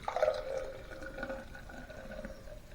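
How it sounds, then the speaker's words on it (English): Lizard King beer, a Mosaic-hopped pale ale, poured hard into a glass so it foams a little head; a short, steady liquid pour with gurgling splashes, close and alone. "I poured it a little hard, got a little head on it."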